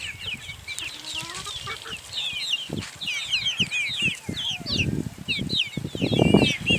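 Turkeys, chickens and young chicks cluck and chirp together at a feeding place, with dense overlapping high calls, scuffling and some wing flaps, growing louder toward the end.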